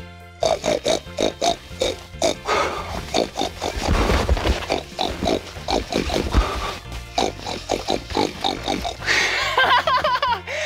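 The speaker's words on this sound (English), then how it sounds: "pigs are so silly because they oink." A pig oinks in a series of short, rhythmic grunts and snorts, close and fairly loud, with a brief squeal near the end.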